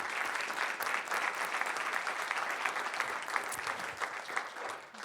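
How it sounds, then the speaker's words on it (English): An audience claps steadily for several seconds, a dense, even wash of applause heard from within the room. "Let's give a round of applause for our panelists real quick."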